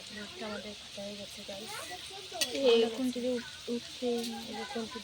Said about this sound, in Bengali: এখন বিনস ভাজা হচ্ছে বিনস